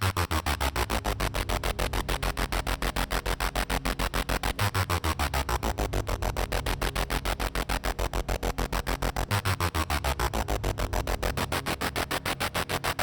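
Synthesizer tone with a tempo-synced, step-based filter, pulsing in rapid, even rhythmic steps with a buzzy, static-like texture, loud and continuous, with no voices.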